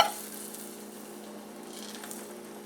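A curly dock pancake sizzles steadily in a pan, a soft continuous frying hiss close by at low volume with no voices.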